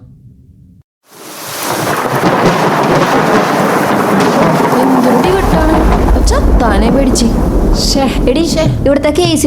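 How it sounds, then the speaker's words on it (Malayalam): A thunderstorm sets in with a sudden loud crack of thunder and then heavy, continuous rain and rumbling. A person speaks briefly over the steady downpour. "നല്ല ഇടിവെട്ടല്ലേ ഇപ്പൊ"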